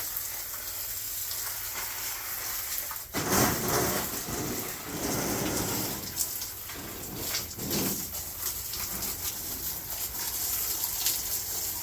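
A hose sprays water over potted cacti on a shelf, giving a steady hissing patter with bursts that come and go as the spray shifts, close and fairly soft, with no talking.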